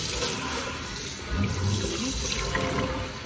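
Steady running water from a tap during a hair rinse for a cheap home perm, a continuous close splashing wash throughout with a few brief murmurs of voices underneath.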